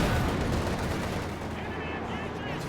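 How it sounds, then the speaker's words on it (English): A Panzerwerfer rocket launcher fires a volley in a video game: a dense, continuous roar of launches and blasts filling the whole stretch, with voices talking faintly underneath. "Panzerwerfer fires the first volley."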